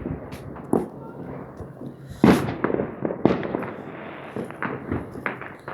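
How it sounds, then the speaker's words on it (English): Fourth of July fireworks pop and bang in an irregular scatter of sharp reports, some close and loud, others more distant, with crackling between them and voices talking in the background. "We are surrounded by a whole bunch of fireworks"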